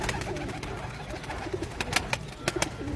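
Pigeons cooing in a breeder's loft in Faisalabad, soft repeated coos under a busy background of fluttering and light clicks, with a few sharper sounds near the end.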